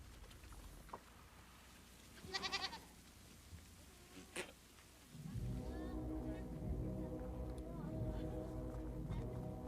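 Goats and sheep of a Mongolian nomadic herd bleat, first in a short wavering call and a few faint cries. A louder, sustained bleating chorus with a low background rumble follows.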